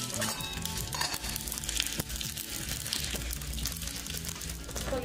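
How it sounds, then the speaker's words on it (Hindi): Cumin seeds and asafoetida are tempered in hot oil for a bottle gourd raita, giving a soft, continuous sizzle and crackle that stays fairly faint and close. "अब इन सभी चीजों का इस तेल में तड़का लगाएंगे।"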